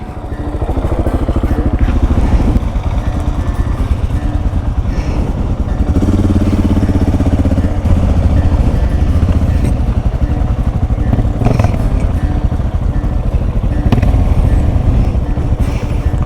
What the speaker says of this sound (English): John is coming off a Ducati superbike, jumping into the adventure riding game on his KTM 690.